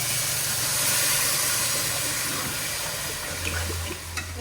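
Water goes into frying masala that has released its oil, producing a steady hiss and steamy sizzle that softens and bubbles toward the end, close and moderately loud, with no talk.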